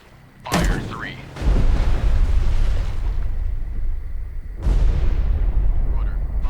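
Naval deck gun salvos from a WWII destroyer in Destroyer The U-Boat Hunter, several heavy booming blasts with rolling rumble tails, loud and close, the first shot sharper, the later ones deeper and longer.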